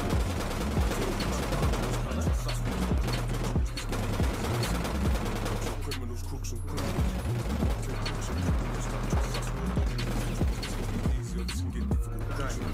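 Gunfire in the console shooter APB Reloaded, with steady rapid bursts of shots and a dense, loud mix running throughout, plus a brief lull.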